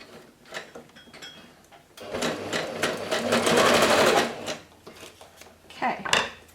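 A sewing machine stitches lace onto fabric scraps in a close, rattling burst that builds and fades over several seconds, with a shorter run of stitching at the end and quiet handling noise between.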